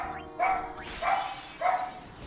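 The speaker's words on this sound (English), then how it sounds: "Because they love just barking and making noise!" Indoor dogs bark three times at an even pace, a sharp, fairly loud woof each time with short quiet gaps in between.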